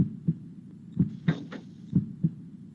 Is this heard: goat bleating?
no